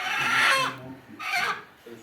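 Chickens clucking and squawking nearby in short bursts in a carpentry workshop, with a few softer calls trailing after.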